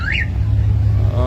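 A blue Corvette's alarm gives a single short, rising electronic chirp near the start over a steady low engine rumble at a street racing meet.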